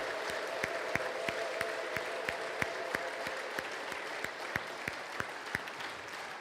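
A church congregation claps in steady rhythmic unison, sharp regular beats at a moderate distance over a faint hum, with no voices standing out.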